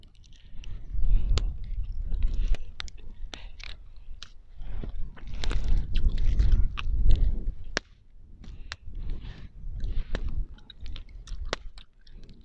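Grilled squid being chewed outdoors in the snow, close and crisp, with repeated crunchy, slightly wet bites and mastication across the whole stretch, no talking.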